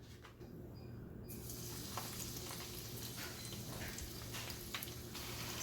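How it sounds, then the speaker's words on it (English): Coconut shrimp crackles and sizzles in hot oil in a frying pan, a continuous frying hiss with scattered pops, close up and without talk. "Now I'm gonna put it into the frying pan."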